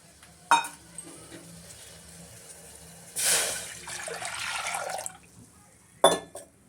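Water pours into a cooking pot for brinjal in a rava vangi bath, a splashing rush of about two seconds set between sharp clicks of a glass and pot in a quiet kitchen.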